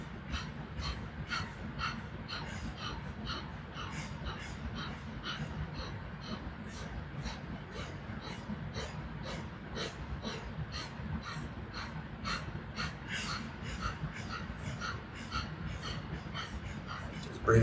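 During a Kundalini yoga breathing exercise, quick, sharp, rhythmic breaths repeat steadily, close and fairly loud, about one every second and unbroken over a low hum.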